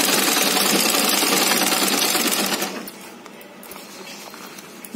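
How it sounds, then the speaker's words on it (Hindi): A sewing machine stitches together angled fabric pieces for a homemade face shield. Its loud, rapid, even whirr runs for a few seconds, then drops to a quieter background hum. "सिलाई कर लेंगे।"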